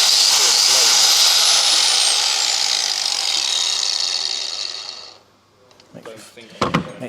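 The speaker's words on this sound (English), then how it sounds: "that is a serious grinder" A powerful grinder runs loud and steady on a commercial site during electrical maintenance work, a bright sustained whine that winds down and cuts out, followed by a few knocks and clatters.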